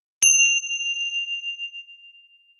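A single bell is struck once, sharp and clear, then rings on with a bright sustained tone that slowly fades over about two seconds, alone with no voices.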